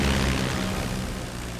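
Grumman F6F Hellcat fighter planes roar through a dogfight, a loud, steady piston-engine and propeller drone that fills the whole stretch and eases slightly toward the end.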